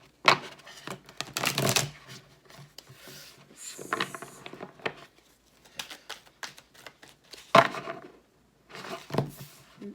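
Bursts of oracle cards being shuffled and riffled close by, several quick flurries separated by brief pauses and light handling sounds.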